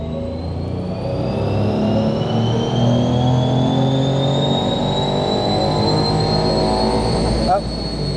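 A car engine on a chassis dyno revs up in one long, loud, continuous pull, its pitch climbing steadily for about seven seconds before a brief change near the end.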